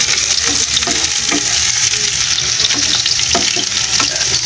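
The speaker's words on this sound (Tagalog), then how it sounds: "Siyempre halo-haloin lang natin." Onions stir-fried for pansit bato sizzle steadily in a hot pan, a loud continuous frying hiss broken by scraping, clinking strokes of a spatula mixing them.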